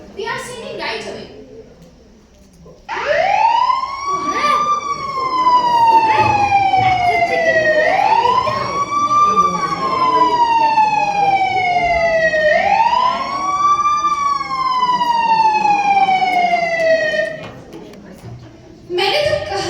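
An ambulance siren sound effect in a school stage play wails in three long rising-and-falling sweeps, loud and close, with children's voices briefly around it.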